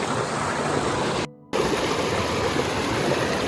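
Water runs steadily past a small model water wheel set in a stream channel, a continuous broadband rushing broken by a brief dropout partway through.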